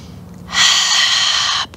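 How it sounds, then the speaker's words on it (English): Deep breath during a yoga session for stress and tension, one long, loud airy exhale lasting about a second, close and alone. "So we're breathing here, lots of breath."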